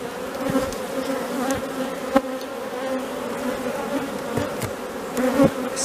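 Honeybees buzz steadily around an open hive while frames get a light dusting of powdered sugar against varroa mites, a dense close hum with occasional louder individual bees darting past.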